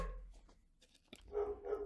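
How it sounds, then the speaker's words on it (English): Pet dogs at home give a few faint yips, then a sharper bark and a louder run of barking toward the end, over a quiet low hum. "Shout out to young James watching his dogs right now, and they love to bark."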